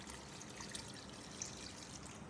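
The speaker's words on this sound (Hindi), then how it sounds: "इसके अंदर थोड़ा सा पानी डालूंगी" Water pours into a pot of mutton karahi being cooked, a soft continuous trickle that stays faint and even throughout.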